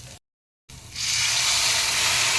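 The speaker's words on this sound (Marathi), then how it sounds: "त्याच्यामध्ये मी पाणी घालत आहे" Water pours into green pea usal in a pan, a steady close hiss and gush rising after a short silence and continuing unbroken to the end.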